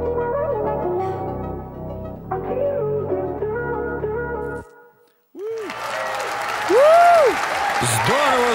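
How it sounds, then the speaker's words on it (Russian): Music with singing ends during a radio studio performance, then a burst of applause and cheering from a crowd follows, loud and steady. "Спасибо, аплодисменты."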